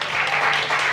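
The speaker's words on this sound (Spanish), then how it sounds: "Vengan, chicos, fuerte el aplauso para ellos." A theatre audience applauds a musical company after a stage show, loud continuous clapping from many hands, even and unbroken throughout.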